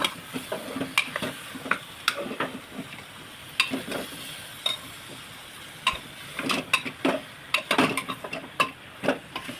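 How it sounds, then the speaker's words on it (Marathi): Bitter gourd sautéed in oil with masala, a spatula stirring and scraping against the pan in irregular clicks and taps over a soft sizzle, close and clear with no voices. "कारले व्यवस्थित परतून घ्यायचे तेलामध्ये"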